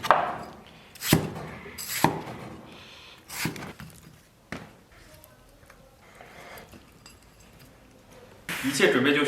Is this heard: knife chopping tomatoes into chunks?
yes